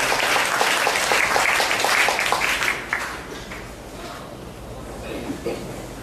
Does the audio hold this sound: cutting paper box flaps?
no